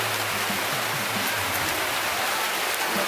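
Heavy rain falls in the countryside near a rice-harvest field, a loud, steady roar of dense hiss from close by, unbroken and without voices.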